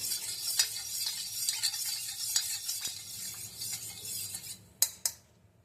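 A spoon stirs salt and sugar into water in a bowl, a quiet swirling scrape with light clinks, ending in two sharper taps against the rim; no talking.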